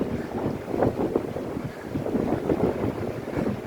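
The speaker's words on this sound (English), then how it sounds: "Nice and windy. I love these windy days." Wind gusts in Waikiki buffet and rumble across the microphone in uneven low bursts, loud and close, with no voices.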